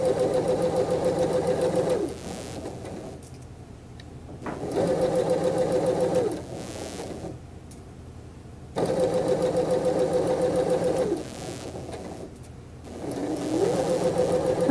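A sewing machine stitches a plain seam joining a blue garment to its facing, running in loud bursts of rapid rhythmic whirring separated by short pauses, including brief back stitching at the seam ends.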